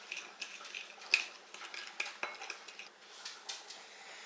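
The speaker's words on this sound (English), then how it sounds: "Now I'm just going to mix that all around in that butter." A utensil clinks and scrapes against a small dish, quiet and close, as Kinder's buttery garlic and herb seasoning is stirred into butter. Short irregular taps, no talking.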